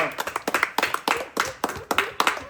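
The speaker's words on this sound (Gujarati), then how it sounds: "એના માટે પણ ખૂબ ખૂબ તાળીઓ પાડો" A crowd claps for the winning children of a bottle-touch challenge game, a brisk run of close, irregular hand claps pulsing in bursts from start to finish, with no talk over it.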